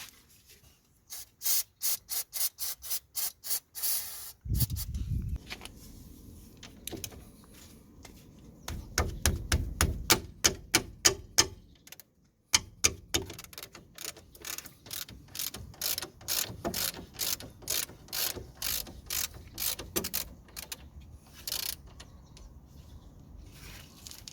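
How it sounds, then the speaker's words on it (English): A ratchet undoes the 15mm nuts on the front anti-roll bar links of a Land Rover Freelander. Repeated bursts of rapid, close clicking run throughout, broken by short pauses and a few heavier thuds and clunks. "we're going to undo these two nuts, one here and one here at the back"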